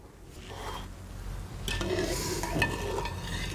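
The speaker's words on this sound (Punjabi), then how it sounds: "ਹੁਣ ਆਪਾਂ ਦਾਲ ਵਿੱਚ ਕੜਛੀ ਫੇਰ ਕੇ ਇਹਨੂੰ ਢੱਕ ਦਾਂਗੇ" Ladle stirring chana dal with bottle gourd in a cooking pot, a steady scraping and rubbing with faint sizzling, close and continuous, louder in the second half, with no talk.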